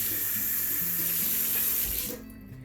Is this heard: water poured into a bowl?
yes